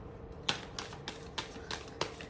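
Tarot cards shuffled by hand in a quiet room, six or so crisp riffling bursts in quick succession, soft and close.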